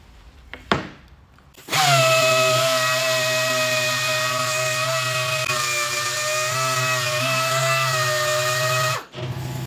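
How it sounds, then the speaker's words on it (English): An electric power sander removing dried glue from a wooden picture frame whirs up after a couple of faint knocks, holding a loud, steady high-pitched motor whine with slight grinding variation for about seven seconds before stopping abruptly. "We're gonna go ahead and sand all of the glue areas off."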